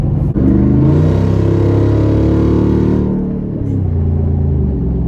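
A Jeep Wrangler Rubicon 392 V8 accelerates hard in Off-Road Plus mode with traction control off, a loud, close, rising engine roar that holds, then eases off and settles to a lower rumble.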